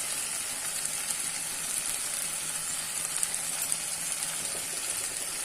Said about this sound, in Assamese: এতিয়া এইখিনি মই ফ্ৰাই কৰি আছোঁ।